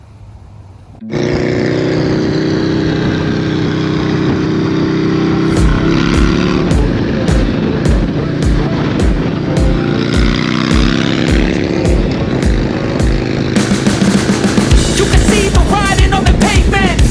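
A Harley-Davidson Low Rider S motorcycle starts up and rides, its engine a loud, close, continuous rumble, with a run of sharp rhythmic clicks partway through and rising revs and wind toward the end.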